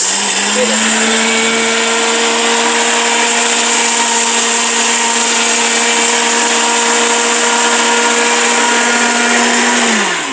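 A robot blender with all-steel bushings grinds rice into flour, giving a loud, steady high-pitched motor whine with a constant grinding hum that holds for about ten seconds before it winds down.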